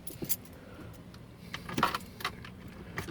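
Car keys for a ZK Fairlane jangle in a few quick, close bursts, light metallic rattles spaced across a quiet interior with no talking.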